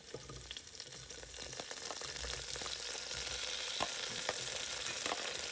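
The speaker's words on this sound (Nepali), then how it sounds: "अब एकैछिन आलुलाई यसरी नै चलाउँदै फ्राई गर्नुपर्छ।" Potatoes and onions fry and sizzle steadily in a pan as they are stirred, a continuous close crackle with occasional scraping clicks of the utensil and no talking.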